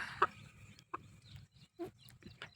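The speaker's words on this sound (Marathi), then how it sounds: "आता फायनली त्या कोंबड्याला पकडलाय" A rooster clucks in short, separate bursts, close by, with a low background hum running underneath.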